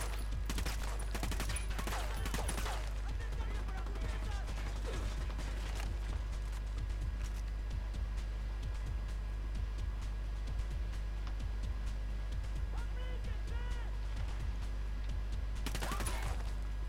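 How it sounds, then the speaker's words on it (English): Rapid bursts of gunfire from Ghost Recon Wildlands on Ghost difficulty, heavy in the first seconds and again near the end, with quieter game ambience and scattered shots between. "Shit, I'm missing my shots."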